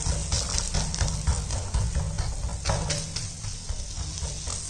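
Jowar (sorghum) roti dough patted onto a hot dosa griddle, sizzling with a close, steady crackle and soft irregular pops, fairly quiet and without speech.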